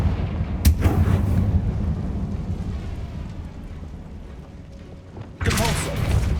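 Bombarda and Confringo blasting spells from Hogwarts Legacy go off as loud, booming explosions, one near the start and another burst near the end, over a steady rumbling game soundscape.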